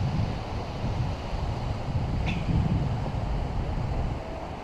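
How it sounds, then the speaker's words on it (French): Steady, broad wind rumble buffeting the microphone on a beach in Corsica, with a brief faint high chirp midway. "Le vent se lève un petit peu."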